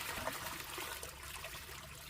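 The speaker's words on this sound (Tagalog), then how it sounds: "Ganito pa rin ang tagas ng tubig dito sa summer. Malakas pa rin." Water flows steadily from a spring in Canada where people fetch drinking water, a continuous soft splashing trickle heard close and alone.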